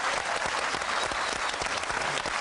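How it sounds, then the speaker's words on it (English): A studio audience's applause on a panel show, steady dense clapping throughout a short burst, close and loud. "Ladies and gentlemen, big round of applause for Emma Sayle."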